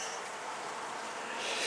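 Honey bees buzz at a beehive as a soft, steady, high-pitched hum with no gaps, faint and continuous throughout.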